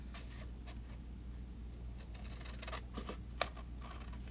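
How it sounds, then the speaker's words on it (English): Scissors snip through material while cutting out a tool box shape, several soft, quick cuts close by with light scratching, faint and alone. "So I'm turning and I'm cutting the other side now."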